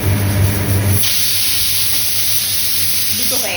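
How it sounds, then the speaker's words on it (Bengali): A pressure cooker cooking chicken for yakhni pulao vents steam in a loud, steady, close hiss that carries on after a brief voice at the start. "আর এদিকে একটা সিটি হয়ে গেছে, আর একটা সিটি পড়বে করছে"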